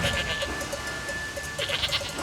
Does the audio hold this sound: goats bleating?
yes